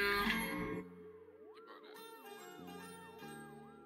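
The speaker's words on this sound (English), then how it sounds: "Now we got the cop sirens." Police siren sound effect inside a hip-hop track, a rising and falling wail repeating over sustained synth tones after a loud opening burst of music, moderately loud.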